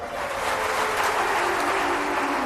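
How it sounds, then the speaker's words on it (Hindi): Sustained crowd applause from a large audience at an evening spiritual satsang gathering in an ashram hall, a dense, steady wash of clapping running throughout with no voices over it. "तालियां तो बजाते हो"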